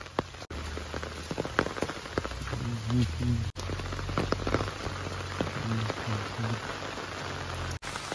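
Heavy, continuous rain falls steadily in a village, a dense unbroken hiss of drops on surfaces throughout, with faint low voices briefly audible beneath the downpour.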